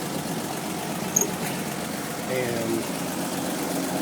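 A 1976 Toyota Land Cruiser engine, converted to electronic ignition, idles with a steady, even rumble throughout while someone speaks over it.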